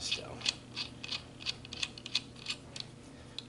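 A nut is tightened over a lock washer on the fan pulley of a Missouri Wind and Solar permanent magnet alternator, heard as a quiet, evenly spaced series of sharp metallic ratchet clicks over a low background hum.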